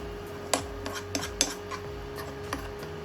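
Spoon scraping and clinking against a pan while masala is fried for egg bhurji, a few sharp metallic knocks at irregular intervals over a steady low hiss, no talking.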